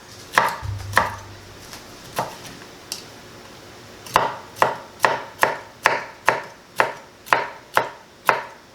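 A knife slices cabbage into thin slivers on a board for an Asian noodle salad, a few scattered chops and then a steady run of about ten crisp, evenly spaced cuts, close and distinct.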